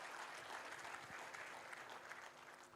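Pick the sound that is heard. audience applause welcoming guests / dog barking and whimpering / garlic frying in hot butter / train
audience applause welcoming guests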